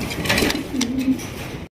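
White Mundi pigeons coo close by in a short, throaty burst of soft repeated notes lasting under two seconds; no one speaks.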